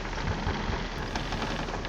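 A storm at sea in the pirate game Sea of Thieves, with heavy rain pouring steadily and low thunder rumbling underneath as one dense, continuous wash of noise, with no talking.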